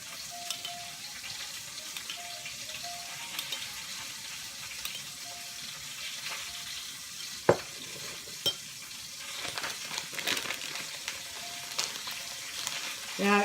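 Pasta and sauce cooking in a hot pan, a soft steady sizzle with occasional stirring scrapes and utensil clinks, including one sharp knock, and no talk.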